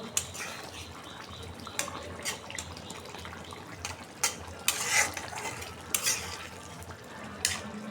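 A utensil stirs fish frying in a pan with cumin powder: gentle sizzling underneath, with irregular scrapes and sharp metallic clinks against the pan at close range.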